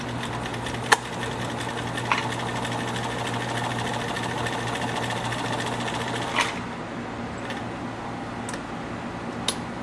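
A Kenmore 84 sewing machine runs steadily while sewing a straight stitch, with a constant motor hum and fast mechanical needle ticking, plus a few brief louder clicks along the way.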